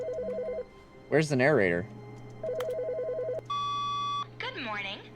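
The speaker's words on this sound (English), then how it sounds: "The phone's ringing." An office desk phone rings in The Stanley Parable game, with short repeated electronic trills in a steady pattern, heard between bursts of someone talking.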